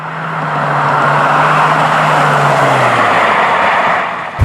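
A 1990s Plymouth Prowler drives past, its engine a loud, steady drone with a falling tone that swells, holds, then fades before a sudden bump at the end.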